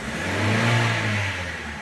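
A car engine revs steadily under the accelerator pedal, a loud, continuous low drone that swells slightly and eases, with no talking.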